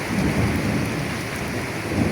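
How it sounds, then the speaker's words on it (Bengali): Steady, dense afternoon rain falling without pause in Dhaka, a continuous broadband hiss with low rumbling underneath, fairly close and even in loudness. "আজকে হুট করে বিকালবেলা এই বৃষ্টি শুরু হয়ে গেছে।"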